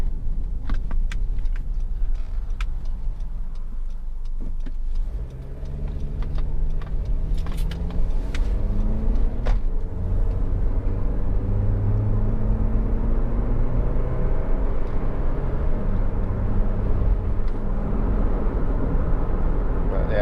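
Cabin of a Honda CR-V 2.0 i-VTEC 4x4 station wagon on the motorway: a steady low road-and-engine drone fills the interior, with engine tones rising smoothly as the car picks up to cruising speed.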